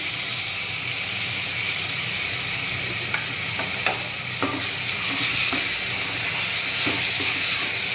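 Chicken biryani masala sautéing in a pan gives a loud, steady sizzling hiss, and from about three seconds in a spoon scrapes and taps the pan in a run of distinct strokes.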